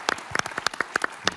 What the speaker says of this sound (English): If you'll please join me with a round of applause for Litmus